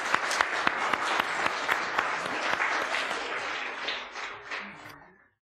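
A church congregation breaks into applause after a baptism, a dense run of many hands with a few sharper claps standing out, swelling steadily and then thinning out and stopping.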